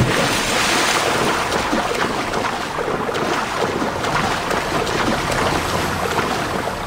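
A sailing ship cuts across open sea in Assassin's Creed Odyssey, with a loud, continuous rush of waves and wind and a constant surging wash that runs without a break and without voices.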